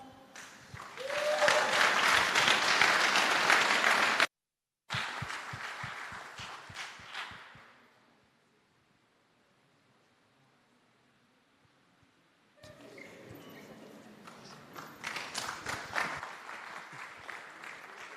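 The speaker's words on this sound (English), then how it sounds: "let's give the kids a big round of applause there" Audience applause for children who have just sung a song at a Jamaican project launch, dense and loud in two long bursts separated by a brief gap, fading into near silence before clapping swells again.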